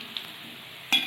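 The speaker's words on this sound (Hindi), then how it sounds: "तो ये कितने अच्छे से फ्राई हो जा रहा है।" Potato rings frying in hot oil in a kadhai, a soft steady sizzle with a brief louder burst near the end.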